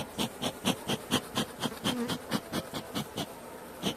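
Caucasian honeybees buzz at their hive as they come out of winter, a soft, steady hum that pulses in quick, regular swells.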